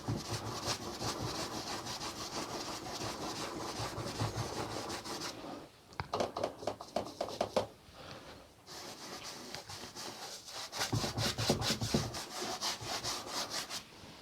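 Paint being scraped across a wall mural, a continuous rough rasping drag that runs steadily, breaks into several short separate strokes midway, then resumes as sustained scraping, close and fairly loud with no talk.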